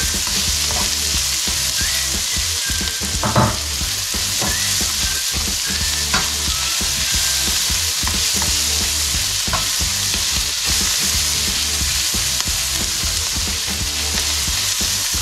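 Garlic frying golden brown in a pan, a loud, dense and continuous sizzle and crackle held steadily up close, with occasional stirring scrapes and no talking.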